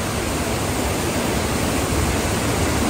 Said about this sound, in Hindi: ये वाटरफॉल इधर से आ रहा है